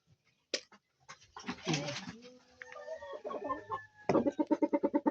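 Stag roosters being fed cluck close by in short bursts and rhythmic clucks, with a dog-like bark or squawk early on and some background noise between calls.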